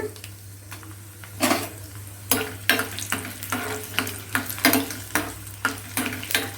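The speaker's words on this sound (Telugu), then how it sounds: "ఇప్పుడు ఆయిల్ వేడెక్కిందండి ఇప్పుడు తాలింపు గింజలు శనగపప్పు మినపప్పు ఆవాలు జీలకర్ర అండి తర్వాత రెండు ఎండుమిర్చి ఇలా తుంచి వేసుకుందామండి" Tempering of chana dal, urad dal, mustard seeds, cumin and two broken dried red chillies crackles in hot oil for a bottle gourd curry, close bursts of sputtering and popping repeating every half second or so over a low hum.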